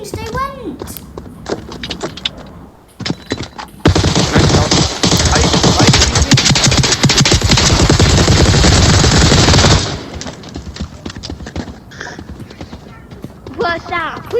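Rapid automatic gunfire at a shooting range in the virtual reality game Onward pours out in a loud, dense six-second burst, framed by shorter shots and voices talking before and after.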